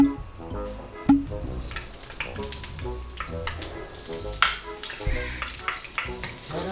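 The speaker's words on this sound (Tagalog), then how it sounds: "magigisa-gisa na tayo para sa ating sweet and sour sauce." Aromatics, including ginger, are sautéed in a pan for a sweet and sour sauce, with continuous close sizzling and frying broken by scraping stir clatters. There is no talking.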